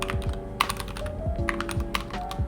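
Rapid, irregular keystrokes on a computer keyboard, clicking close up over a steady low background hum, with no one speaking.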